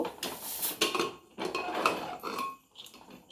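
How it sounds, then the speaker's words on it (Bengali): A cooking pot of simmered chickpeas has its lid lifted off, with a few clinks and scrapes of metal on metal followed by softer rattling, close and fairly quiet. "5 মিনিট মতন হয়ে গেছে, এবার আমি ঢাকনাটা খুলব।"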